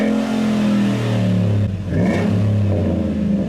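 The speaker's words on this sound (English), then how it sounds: "this truck has a really nice exhaust note" A first-generation Ford F-150 Raptor full-size pickup with the big V8 revs its exhaust, a loud close rumbling drone that rises and falls, dips briefly, then climbs again, with no talk over it.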